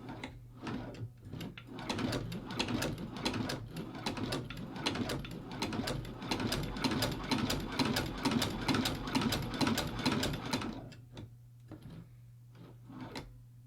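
A YaeTek Hand Cobbler leather sewing machine stitches leather with nylon thread, a close, steady run of rapid mechanical clicks and thumps for about ten seconds, then slows and stops over a low motor hum.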